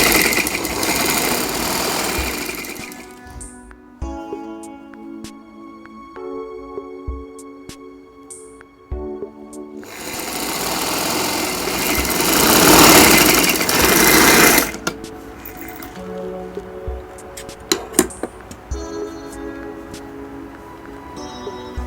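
A sewing machine stitches ladder lace onto a ladies' shirt in bursts of rapid mechanical whirring and clatter, separated by brief pauses and small handling clicks, close and loud.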